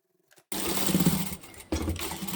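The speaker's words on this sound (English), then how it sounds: "Let's take that to the machine and stitch it down." A sewing machine whirs into motion after a brief quiet start, buzzing steadily as it stitches a fabric tablet bag. Its motor pitch dips briefly partway through, then resumes at full, close-up volume.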